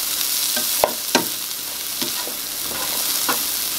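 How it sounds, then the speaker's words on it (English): Carrots and broccoli fry in butter in a pan while being stirred. A steady sizzle runs throughout, broken by several distinct scraping and stirring strokes; no voices. "I'm going to go ahead and add the broccoli. And see if that fell. And stir everything in real good."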